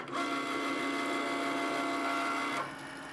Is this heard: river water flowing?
no